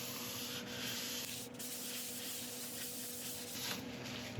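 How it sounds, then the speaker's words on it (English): A cloth soaked in isopropyl alcohol rubbing excess sanding grit off a turned burl wood piece on the lathe, a continuous close scrubbing hiss with a brief pause midway, quiet, with no talk. "wiping off any excess grit with isopropyl alcohol"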